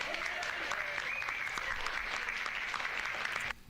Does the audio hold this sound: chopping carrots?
no